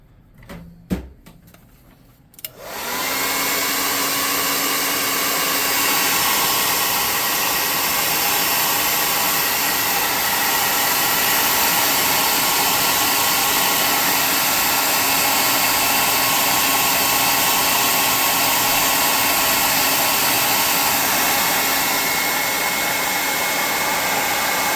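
A hair dryer blows hot air over a painted tabletop shrine model, switching on after a few seconds of small handling clicks and then running as a loud, steady whooshing roar to the end.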